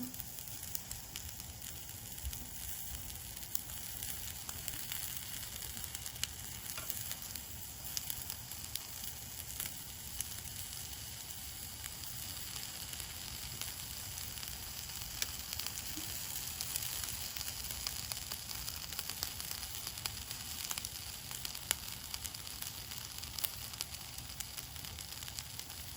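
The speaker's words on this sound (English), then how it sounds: "Starting sizzling." Steady, crackling sizzle of meat frying in a hot pan, continuous and close, with no voices.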